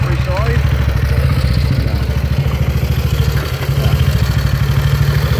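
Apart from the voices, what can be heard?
1939 BSA C10 250cc motorcycle engine running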